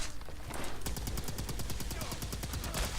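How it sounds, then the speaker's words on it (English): Automatic plasma sniper rifle from Fallout 4 fires a long, fast burst of evenly spaced sharp shots after a brief lead-in, loud and continuous with no pause. "You can tell that the sound is actually from the automatic variant of the plasma rifle"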